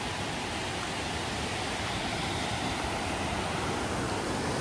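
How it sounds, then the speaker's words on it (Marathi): Water pouring over a small check dam at a scenic spot in Ratnagiri, a dense, steady rushing roar that fills the whole clip, close and unbroken, with no voices. "यावरून पाणी पूर्णपणे खालच्या दिशेला जातं"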